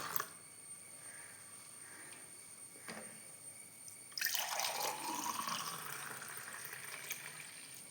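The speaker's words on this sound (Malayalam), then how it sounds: "ഇത് എൻ്റെ കൈപ്പക്ക ജ്യൂസ് ഇത് ഇവിടെ റെഡി ആയിരിക്കുകയാണ് അപ്പം ഞാനത് ഗ്ലാസ്സിലേക്ക് ഒഴിക്കുന്നുണ്ട്" Bitter gourd juice poured into a glass, a quiet trickle at first, then a louder, steady splashing pour from about the midpoint onward, close and alone without talk.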